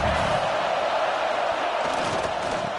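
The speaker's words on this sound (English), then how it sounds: "Crowd trying to help this defense rise to the occasion." Stadium crowd at a college football game between Nebraska and UCF, a dense continuous roar of cheering voices filling the whole moment at steady loudness.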